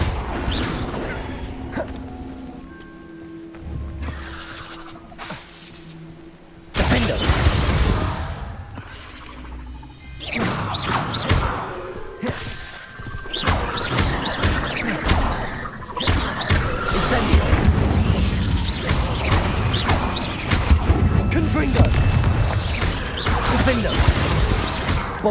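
Confringo fire-spell blasts in Hogwarts Legacy crash and whoosh in loud bursts during spell combat, with sudden impacts and clattering debris between quieter stretches, and occasional speech.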